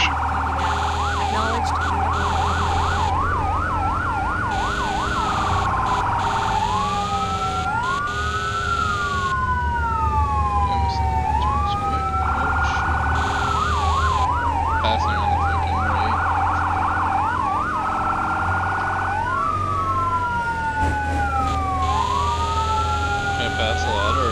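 A fire engine siren in a firefighting simulator game cycles continuously between rapid yelps and long rising-falling wails, looping loudly over a steady engine drone.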